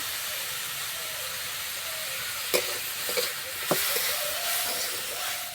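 Spiced semolina-snack filling with turmeric, chilli powder and salt frying in a pan without water, a steady close sizzle and hiss broken by a few sharp scrapes of stirring.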